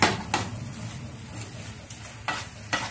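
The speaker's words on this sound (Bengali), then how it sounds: "আস্তে করে নাড়িয়ে দিতে হবে" A spoon gently stirs chicken bharta in a pan, giving a soft steady sizzle with a few light scrapes and taps against the metal.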